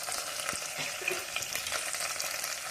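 Curry leaves sizzle in hot oil as a tempering for a horse gram rasam, a steady, close frying hiss with small crackles and no speech.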